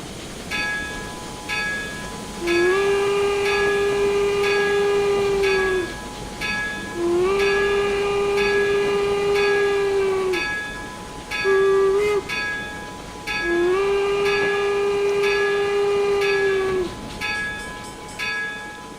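A steam locomotive's whistle in Train Simulator Classic sounds in four long, steady blasts with a short one between, over a continuous hiss and rumble of the moving train.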